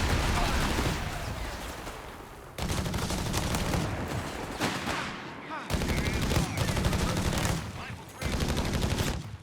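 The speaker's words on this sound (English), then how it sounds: "Here comes the double AT guns." Anti-tank guns firing in Company of Heroes 3 during a 1v1 match, shots bouncing off a Panzer IV; loud, dense bursts of gunfire and impacts in several heavy waves, with brief drops between.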